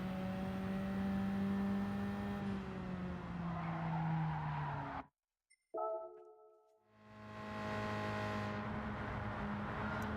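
A race car in Gran Turismo 7 drives with a steady engine drone and tire squeal, cuts briefly to silence, then resumes with a rising engine note and tonal skidding.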